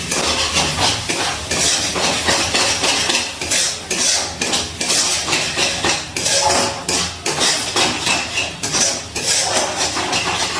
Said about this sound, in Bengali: গ্যাসের ফ্লেমটা লো টু মিডিয়ামে রেখে মশলাটা খুব ভালো করে কষিয়ে নিচ্ছি।